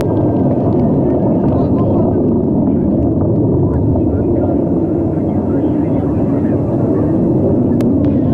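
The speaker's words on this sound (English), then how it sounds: "We'll be coming up on the period of maximum dynamic pressure on the Soyuz booster just a few seconds from now." A Soyuz 2.1a booster climbing from Site 31/6 at Baikonur with the Progress MS-23 cargo craft roars in a dense, constant low rumble that stays loud and unbroken throughout.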